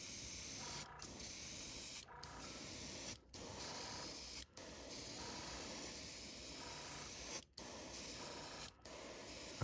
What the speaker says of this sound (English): I just sprayed a little cleaner in, sprayed it through